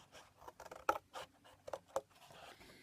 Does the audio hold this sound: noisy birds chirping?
no